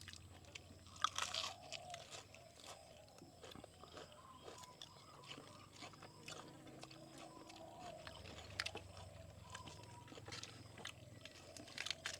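Someone eats stink beans (sator) dry, giving close, wet crunching and chewing bites spread unevenly over a quiet background.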